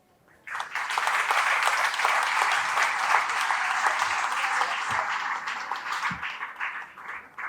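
Audience applause at a civic forum in Kanasín, Yucatán, bursting in abruptly after a brief pause and holding as a dense, steady clapping roar before thinning slightly near the end.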